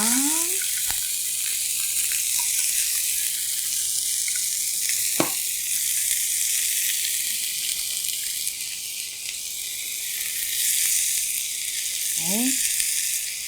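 Meat and onion stir-frying for Korean japchae glass noodles, a loud continuous sizzle throughout with a few brief squeaks and clicks from the pan and utensils.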